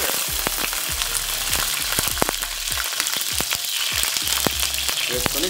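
Green chillies fry lightly in hot oil, a loud, close, constant crackling sizzle with frequent pops and spatters throughout.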